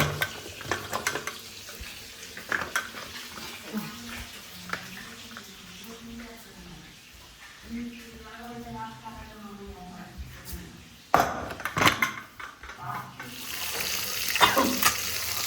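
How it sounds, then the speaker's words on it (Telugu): Fish frying in a pan, a soft sizzle with occasional stirring and clatter while people talk nearby, swelling into a louder burst of frying near the end. "మంచిగా అయితే ఫ్రై అవుతున్నాయండి"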